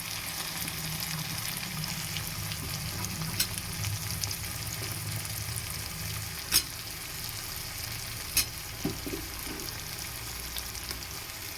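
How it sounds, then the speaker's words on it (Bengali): Steady, soft sizzling of tangra fish curry frying in a pan after fried potatoes go in, with a few faint clicks and taps from stirring over the constant crackle. "এর মধ্যে আমি ভেজে রাখা যে আলুটা আছে সেটা দিয়ে দেবো"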